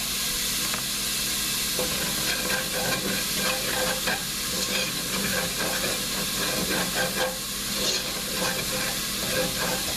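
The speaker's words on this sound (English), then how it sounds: "I'm also going to add just a touch of salt that'll help bring out the natural juices in the onions" Chopped onions cook in a pan with a touch of salt, giving a steady close sizzle and hiss with scraping stirs throughout and no voices.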